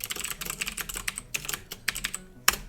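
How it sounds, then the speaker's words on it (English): Rapid, uneven clicking of keys on a computer keyboard, close and steady, with short pauses and a firmer keystroke near the end, no voices. "So how we do this is we create a search. We type in GUI main menu"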